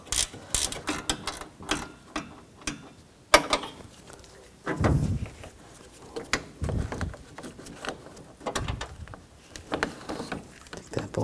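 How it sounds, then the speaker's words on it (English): A 10mm wrench works a bolt loose from the radiator of a 2004-2009 Toyota Prius, giving close, irregular ratcheting clicks and metallic clanks with scattered handling knocks in between. "Using a 10mm wrench right here."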